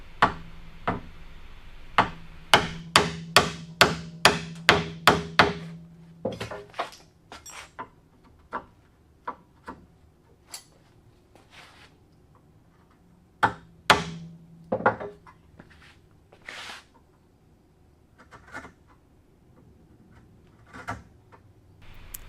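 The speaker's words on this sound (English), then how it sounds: "I still want to chisel that little 1/4 inch shoulder nice and clean" A small shoulder in a wooden dining table part is chiseled with sharp mallet taps, a rapid run of evenly spaced strikes at first, then sparser, irregular knocks and scrapes, close and clear.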